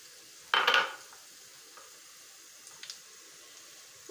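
Cumin seeds hit hot oil for a tarka for moong dal, giving one loud, short burst of sizzling and crackling that quickly fades into faint, quiet frying with a few small pops, and no one speaks.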